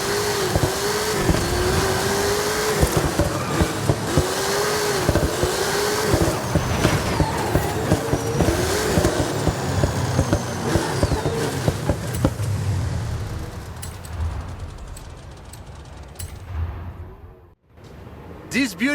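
A Dodge Charger R/T engine in the video game Forza Horizon 5 drones steadily as the car drives, its pitch rising and falling, before the sound cuts out abruptly near the end and briefly returns.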